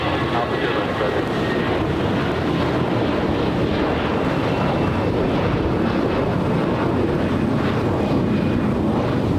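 An Air Canada Airbus A321 jet at LAX makes a steady, loud, broadband roar that holds evenly for the whole stretch, with faint voices mixed underneath.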